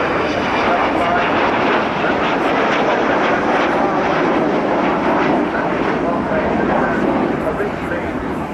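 A roaring jet rumble comes from an Avro Vulcan bomber flying at the 2014 Bournemouth air show, loud and sustained throughout, with a voice commentating over it.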